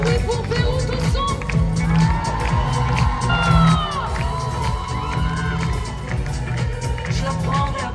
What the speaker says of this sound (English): Du bruit pour Beyrouth au son?